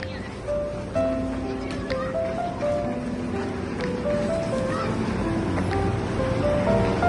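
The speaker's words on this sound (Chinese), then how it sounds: "我们现在遇到了暴风雪" Blizzard wind roars steadily in a snowy outdoor setting, a loud, continuous buffeting rush over the microphone with faint tonal sounds running beneath it.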